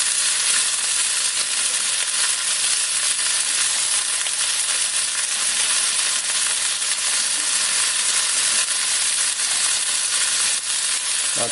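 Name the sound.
pork spareribs browning in a pan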